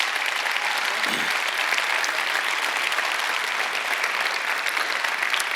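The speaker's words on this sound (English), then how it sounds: "how about a round of applause for him today?" Steady, full applause from an audience at a candidate forum, continuous and close for the whole stretch without letting up.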